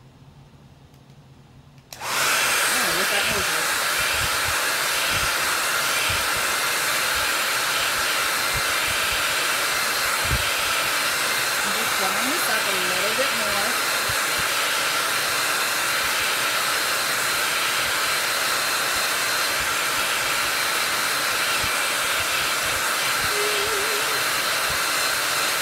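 Hair dryer switching on after a couple of seconds of near quiet, then blowing in a steady loud whoosh throughout while drying a lemon decor craft, with faint background clatter underneath.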